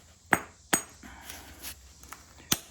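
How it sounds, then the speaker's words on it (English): A granite hammerstone strikes stone in direct percussion while bifacing a large biface, giving three sharp, close knocks, two quick ones and then a later one after a pause, with little else around them. "So this is a harder hammer than that one is. This is a granite here"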